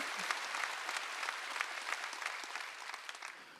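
A church congregation claps along during a worship service, the hands striking in a fairly even rhythm, quiet and somewhat distant.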